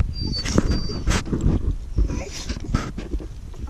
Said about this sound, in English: Look at all your puppies.